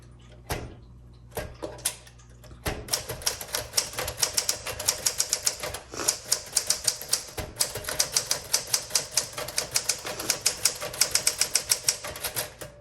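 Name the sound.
typing on a 1962 Smith Corona Sterling typewriter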